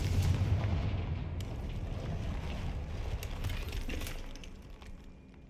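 Explosive spells go off in a Hogwarts game battle, a dense rumbling roar of blasts and crackling debris that stays loud throughout and tapers slightly at the end.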